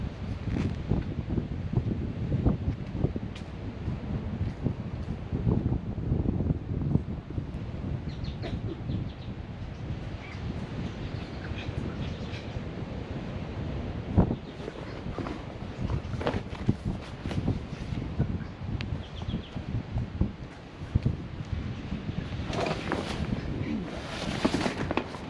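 Strong wind gusts across a Bribie Island beach campsite, a constant rough buffeting roar close on the microphone with brief louder bursts, continuing steadily throughout.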